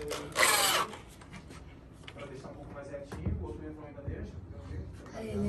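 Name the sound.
drilling a hole to pass cables through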